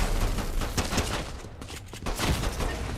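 Rapid gunfire in the Fortnite video game rattles in dense, loud bursts, with several volleys crowding together over a few seconds.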